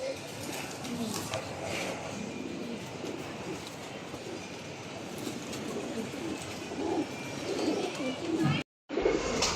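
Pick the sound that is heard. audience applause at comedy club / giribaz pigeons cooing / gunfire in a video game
giribaz pigeons cooing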